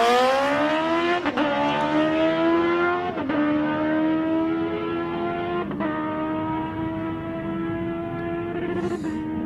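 A Honda CBR 1000 motorcycle screams at a drag strip, rising through high revs with sharp breaks at each gear shift, loud and sustained, ending near the limiter.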